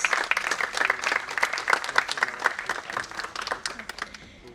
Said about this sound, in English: can we have a round of applause, please?